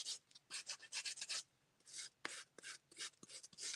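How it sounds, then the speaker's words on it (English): Close, quiet rasping strokes in quick bursts, a sanding block scratching back and forth across the smooth surface of a clear plastic stamp. "I'm going to scratch it up just a little bit with my sanding block."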